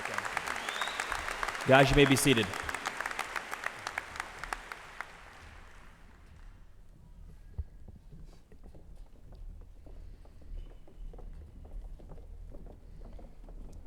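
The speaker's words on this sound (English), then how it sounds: "One more round of applause." Applause from a 2015 high school commencement crowd, a burst of clapping in the first few seconds that fades out, followed by a quieter room as someone speaks over a microphone.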